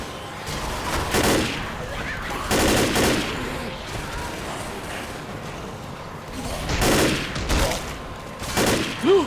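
Gunfire in the Left 4 Dead video game on Xbox: several loud bursts of rapid shots and volleys come in clusters, with quieter stretches of game ambience between them and a sharp final shot near the end.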